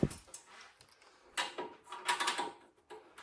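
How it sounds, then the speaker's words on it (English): An Elmira stove, model 1485G-AS, is being worked on during a control board repair. Faint metallic scraping, clicks and ratcheting come in short close bursts as a screw is pulled out, with quiet gaps between them and no talk. "trying to pull the screw out"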